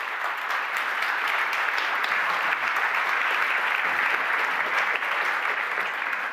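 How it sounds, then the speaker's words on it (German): A seated audience at a Media Convention stage session applauds in a steady, even wash of clapping that holds at a constant moderate level from start to finish, with no voices over it. "Ja, man kann schon klatschen,"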